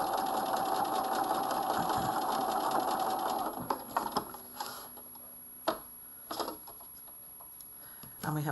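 A sewing machine stitches a coat in a steady fast whir that stops midway, followed by scattered clicks and taps as the needle is lowered and the fabric pivoted, with someone talking faintly.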